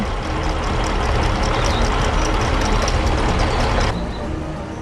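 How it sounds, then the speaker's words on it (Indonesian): A green tractor works a field, tilling the soil with a steady, loud, close engine roar that holds constant for about four seconds before easing slightly quieter. "Traktor hijau sedang menggembur tanah dengan semangat."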